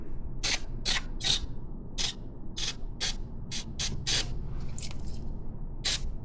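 Short hissing bursts of degreaser sprayed from an aerosol can onto a motorcycle, about a dozen quick puffs in an irregular rhythm, close and fairly loud over a faint background.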